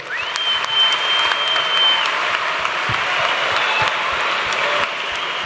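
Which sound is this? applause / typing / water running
applause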